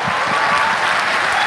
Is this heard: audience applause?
yes